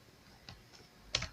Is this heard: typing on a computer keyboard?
yes